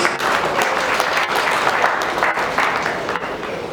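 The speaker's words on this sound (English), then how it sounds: "give a round of applause to DCS for this" Sustained applause from an audience at the Nigeria International Print Expo 2022, a dense steady clapping that fills the whole stretch at fairly close range with no break.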